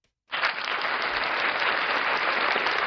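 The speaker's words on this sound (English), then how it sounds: "So I'm going to give you a round of applause" Round of applause starting abruptly after a moment of silence, a dense, bright, even clapping that holds steady at close range until the end, with no voices.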